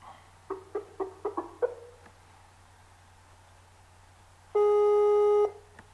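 A phone line is dialed live on air to reach a guest on a broadcast, giving a short run of quick dial-like beeps, then a pause and one sustained, loud electronic tone lasting about a second.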